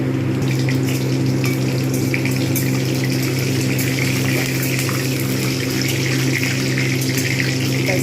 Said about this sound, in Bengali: কড়াতে দিয়ে দিয়েছি সয়াবিন অয়েল এর মধ্যে আমি গোটা জিরে গোটা গরম মশলা মেথি আর এগুলো ফোড়ন দিয়ে দিলাম